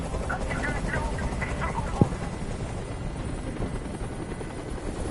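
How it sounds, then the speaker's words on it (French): A helicopter hovers in the Detroit: Become Human video game, its dense rotor and engine roar steady and loud throughout, with muffled game voices and a brief sharp click partway through. "Fais dégager cet hélicoptère, maintenant."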